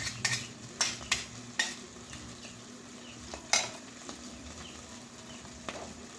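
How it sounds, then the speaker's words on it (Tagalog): Sauce for a sardines burger steak cooks in a pan with a quiet, steady simmer, broken by several sharp clinks and scrapes of a utensil against the pan. "magluluto naman ako ng sauce."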